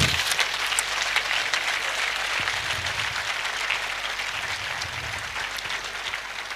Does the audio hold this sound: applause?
yes